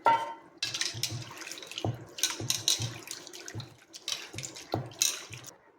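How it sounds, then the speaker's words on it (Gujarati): Thin-cut potato strips being washed by hand in water, with repeated sloshing splashes and swishes in a bowl, close and lively, with a running-water hiss between the strokes. "આ બધા જ બટાકાના કરેલા છીનને આપણે અહીંયા બેથી ત્રણ પાણીએ ધોઈ લઈશું"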